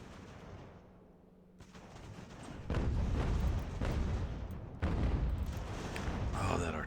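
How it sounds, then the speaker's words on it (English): Artillery fire in Ultimate General: American Revolution, several heavy booms and crackling volleys over rumbling battle noise, moderately loud, arriving in bursts over a few seconds. "Artillery."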